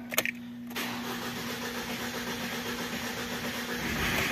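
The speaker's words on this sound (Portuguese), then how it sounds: "Agora ela vai pegar." A 2018 Mitsubishi Triton with a 4N15 engine, out of timing, cranks briefly and catches, then settles into a rough, close idle with a rattling, uneven drone.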